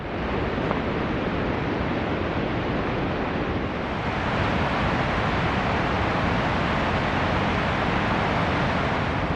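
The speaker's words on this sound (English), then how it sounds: "It's a waterfall." Steady, loud broadband rush of a waterfall heard from a roadside bridge area near a campsite, a continuous roar with no breaks, slightly swelling after a few seconds, with no voices over it.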